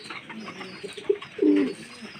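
Pigeons coo close by, a short soft note followed by a longer, louder rolling coo over light background noise.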